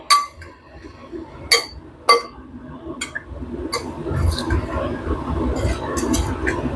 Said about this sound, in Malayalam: ഇനി നമുക്ക് നന്നായിട്ടൊന്ന് മിക്സ് ചെയ്യാം